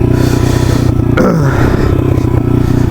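An enduro dirt bike rides off-road, its loud close engine droning steadily with a brief rev and a scraping, clattering moment midway.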